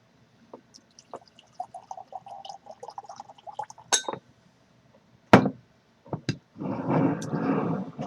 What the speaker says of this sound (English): let's do a pour and look at this in the glass